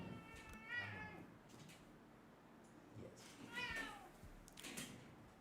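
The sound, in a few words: cat meowing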